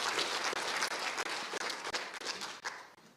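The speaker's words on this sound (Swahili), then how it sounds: "Situmpigie makofi mazuri captain." An audience applauds the captain at a Kenya Wildlife Conservancies Association event, with a steady, dense burst of clapping that carries on without a break.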